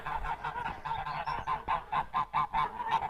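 Geese honk repeatedly in a rapid rhythmic series of nasal calls, loud and close, with overlapping honks from several birds.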